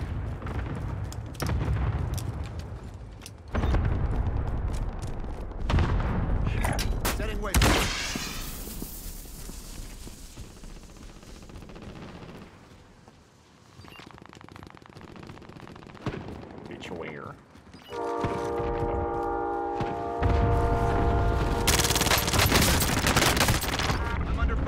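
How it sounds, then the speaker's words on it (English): A minigun blasts in Call of Duty: Warzone, loud sustained bursts of rapid gunfire mixed with other shots and booms, plus a stretch of electronic game tones. "A minigun."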